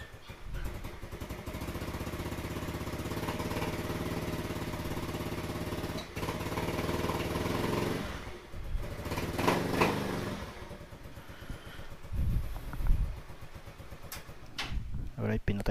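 A Yamaha Mio Sporty scooter, fitted with a new maintenance-free battery, starts and idles with a steady engine drone, then gets rougher and intermittent toward the end, with someone talking over it.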